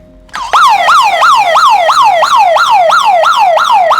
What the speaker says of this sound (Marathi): जर आपल्या डिव्हाइसला जर अनु करण्याचा कोणी प्रयत्न केला तरी सुद्धा तो सायरन करेल